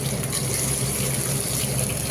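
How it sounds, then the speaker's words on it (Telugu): Tap water runs steadily over cumin seeds being rinsed in a kitchen, a constant close gushing splash with no pauses. "జీలకర్ర కడిగి వేసేసుకుందాం ఫ్రెండ్స్."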